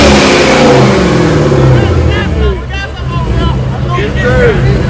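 A car with a 2-step launch control revs loudly up close in sustained, rising and falling engine roars, with voices and crowd noise mixed underneath.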